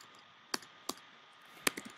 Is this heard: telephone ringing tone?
no